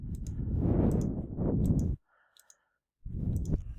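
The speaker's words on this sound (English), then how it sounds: "just select the line by left clicking and then right click" A computer mouse gives several crisp left and right clicks, scattered over a low rumbling background that drops out briefly in the middle.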